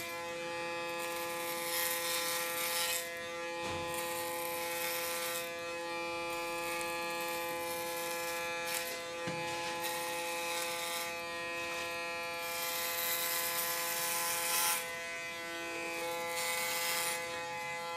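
Electric hair clippers buzz steadily through a short clipper haircut with a roughly 4 mm guard, a close, continuous hum with slight shifts as the blade passes over the head, with no talking.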